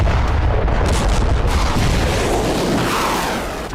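Iranian artillery fires during a military exercise, with heavy booming blasts rolling over one another into a dense, loud rumble that fades slightly at the end.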